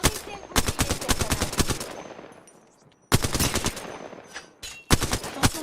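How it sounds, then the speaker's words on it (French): Gunfire in the shooter game Apex Legends, two long loud rapid-fire automatic bursts close by, split by a brief lull, then a short third burst. "Je me fais tirer dessus."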